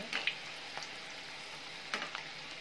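Khekda bhaji, crab-shaped fritters, fry in hot oil until reddish brown, giving a faint, steady sizzle with soft crackles and a few brief pops.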